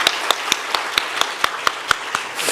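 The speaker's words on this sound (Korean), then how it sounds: "우리 한 마음으로 같이 한번 큰 박수로 격려하도록 하겠습니다" A church congregation claps steadily, sharp hand claps repeating in a fairly even rhythm, moderately loud, with no talking over it.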